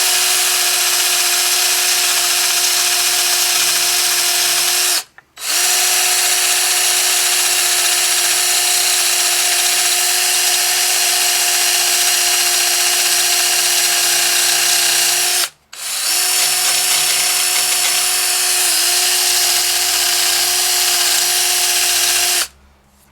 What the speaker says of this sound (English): This is pretty aggressive sandpaper, about 24 grit.